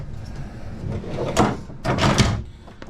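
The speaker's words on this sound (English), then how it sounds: "if you do wish to separate, completely close off the bedroom from the bathroom, a nice little sliding door there" The sliding door between the bedroom and bathroom of a 2013 Thor Hurricane 32A Class A RV rolls and thumps: a short knock, then a longer sliding rumble with clacks, close by and fairly loud.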